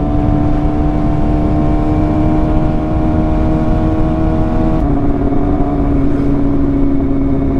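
A Suzuki JSX-R 150 motorcycle engine runs steadily while riding in sixth gear, a loud, close, continuous drone with a slight shift in pitch partway through and no talk.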